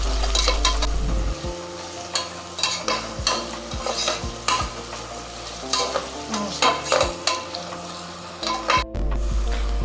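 Sliced onions with cloves and cinnamon sticks fry in a pan for village-style country chicken curry. Loud, continuous sizzling is broken by repeated rhythmic spatula scrapes and knocks against the pan, up close with no speech.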